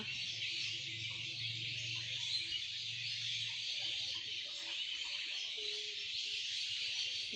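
A dense, unbroken chorus of many birds calling at dusk at a roosting spot near a pond, with steady massed chatter throughout and a faint low hum underneath.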